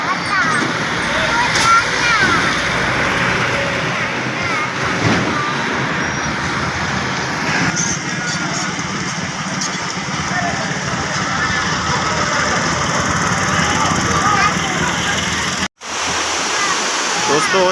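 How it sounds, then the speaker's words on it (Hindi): Sutlej River water flowing through the Head Islam barrage, a steady broadband rush mixed with passing road traffic and engine noise, with someone talking over it and a brief dropout near the end. "इस साइड से पानी चल रहा है"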